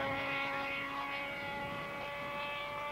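Aerobatic model aircraft at a Top Gun UK 1995 competition making a high-speed pass at about 176 mph, a loud, steady propeller-engine drone close by with no one speaking.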